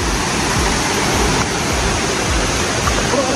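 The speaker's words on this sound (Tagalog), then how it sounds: "Malakas na po yung tubig mga kalangga. Galing po yung bundok." Strong water flow rushing down from a mountain during continuous rain, a dense, loud, unbroken roar of torrent close by with no other sounds.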